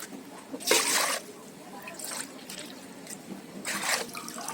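Water splashes and trickles in a couple of bursts, two bowlfuls poured into a pot for cooking sago, at close range, with soft background noise between pours.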